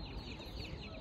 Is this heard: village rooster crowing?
yes